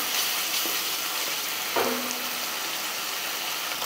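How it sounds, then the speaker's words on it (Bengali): Spice paste frying in oil while being stirred and cooked down, a continuous close sizzle with a couple of soft scraping strokes and no talking. "যতক্ষণ না তেল ছাড়ে ততক্ষণ আমি এইভাবে মশলাটা কষে নিচ্ছি।"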